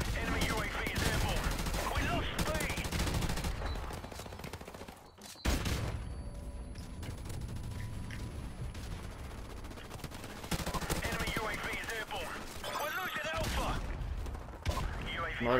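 Video game gunfire in a first-person shooter, with rapid automatic bursts and sharp shots crackling almost continuously at moderate loudness, a brief pause midway, then renewed heavy firing.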